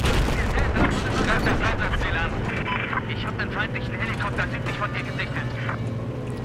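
Battlefield 4 multiplayer battle on the Shanghai map, with dense continuous gunfire, explosions and aircraft drone filling the scene at steady loudness while someone talks over it.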